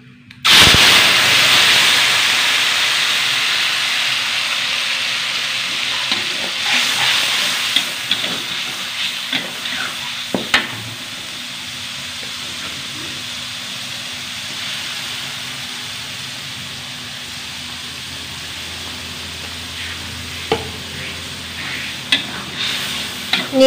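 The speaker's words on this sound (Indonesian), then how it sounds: "Bismillah, goreng bumbu." Spice paste frying in a pan, opening with a loud burst of sizzle as it hits the hot oil, then a steady hissing fry with occasional stirring clatter, no talking.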